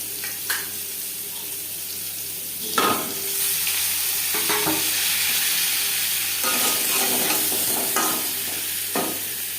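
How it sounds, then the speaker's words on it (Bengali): Steady sizzling of potatoes frying in hot oil for a rohu fish curry, with occasional clanks and scrapes of stirring in a pan. "মাছ ভেজে নিয়ে কড়াইতে আবারও তেল দিয়েছি দিয়ে দেবো আলু"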